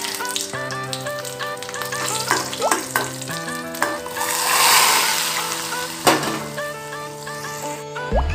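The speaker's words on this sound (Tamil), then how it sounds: "இப்போ முந்திரி திராட்சை வறுக்கிறதுக்காக ஒரு வாணலி வச்சுருக்கேன், இதில் கொஞ்சம் நெய் விட்டுக்கலாம்." Cashews and raisins frying in hot ghee in a pan, a steady soft sizzle and bubbling that swells midway, with occasional stirring clinks and background music throughout.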